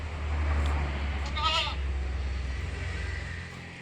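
A single bleat from a Malabari male goat kid, a brief quavering cry, rises over a constant low rumble and then fades into background noise.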